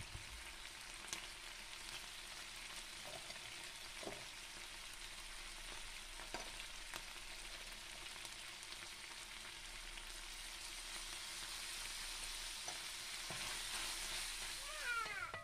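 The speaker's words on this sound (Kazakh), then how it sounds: "Сәбіз, пияз және де тәтті бұрышымызды қосып, жақсылап тұрып қуырамыз." Carrot, onion and sweet pepper sizzle steadily with meat in a hot pan, with occasional scraping stirs; a soft, continuous frying hiss throughout.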